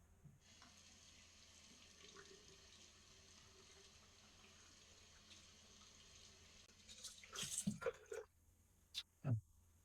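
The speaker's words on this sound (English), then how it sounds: "let me rinse up, and we'll be back for round two" Running tap water splashes steadily into a sink for several seconds while a face is rinsed after a shave, then a few louder splashy bursts and squishing handfuls of water close by, with no talking.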